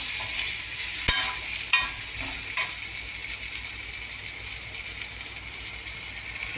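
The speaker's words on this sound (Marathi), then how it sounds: "तेलामध्ये फ्राय होईपर्यंत." Eggplant sautéing with masala in hot oil for a Maharashtrian vanga bhaji, giving a steady soft sizzle with occasional stirring scrapes and a sharp clack near the start, no talking.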